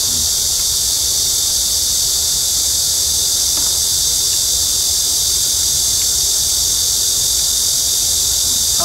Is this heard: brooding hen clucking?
no